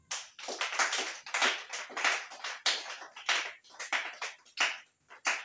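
A church congregation claps in acclaim of the Lord Jesus: dense, steady applause in repeated surges of many hands, close and loud, with brief dips between bursts and no clear talk.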